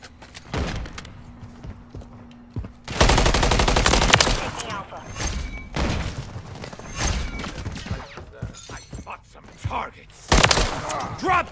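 Bursts of automatic assault rifle fire in the shooter game Modern Warfare 3 crackle loudly in several heavy volleys, mixed with game effects and shouted voice callouts between the bursts.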